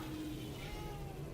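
A single faint, brief cat meow comes through quietly under a steady low background hum.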